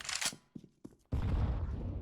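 Gunfire in the shooter Counter-Strike: Global Offensive, with a few sharp clipped shots and clicks followed by a dense sustained burst of spraying rifle fire, loud and close.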